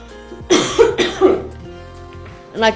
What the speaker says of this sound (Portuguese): No momento que dá uma tosse na pessoa